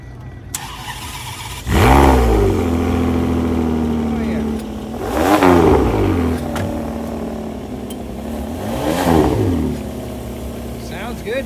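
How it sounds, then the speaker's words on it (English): V12 sports car at a Cars and Coffee meet in Folsom, El Dorado Hills, California, revving hard to high RPM in three sharp bursts that rise and fall, loud and close, with a steady idle between blips. "V12, oof. That's a lot of RPMs."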